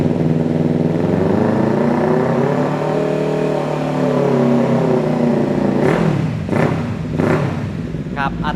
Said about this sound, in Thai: เดี๋ยวฟังเสียงท่อคันนี้กัน